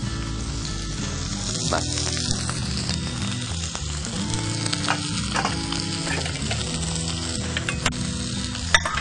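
Egg frying in oil in a pan gives a dense, continuous crackling sizzle with scattered pops and clicks throughout, close and loud; a single word is spoken briefly.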